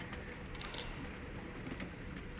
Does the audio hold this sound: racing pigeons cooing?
yes